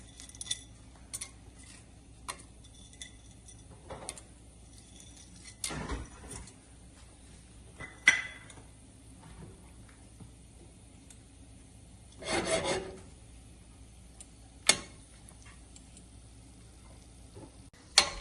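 Dry whole spices rattle and scrape in hot oil in a pan for a Telangana dawath-style aloo mutton curry, with quiet stirring and rasping broken by a few louder scraping bursts from a spoon against the metal.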